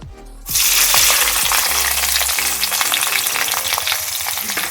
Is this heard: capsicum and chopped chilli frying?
yes